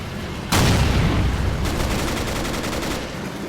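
Sustained artillery bombardment in the Men of War: Assault Squad Barbarossa 1941 battle, German guns pounding a Soviet defense line: a sudden loud onset of dense, rumbling blasts and crackling fire that rolls on continuously without a break.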